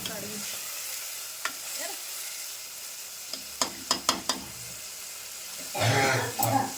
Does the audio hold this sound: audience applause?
no